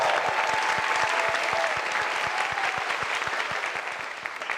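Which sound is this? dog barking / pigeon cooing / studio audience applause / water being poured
studio audience applause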